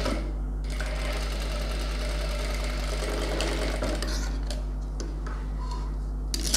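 A sewing machine stitches blouse lining in a steady, close run of rapid mechanical whirring and ticking with a constant low hum, carrying on almost unbroken with no talking.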